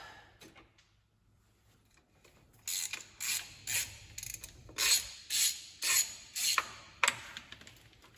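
A ratchet clicks in a series of quick, close bursts while loosening the valve covers on a 1978 Pontiac Firebird engine, with about seven short rasping strokes after a quieter start.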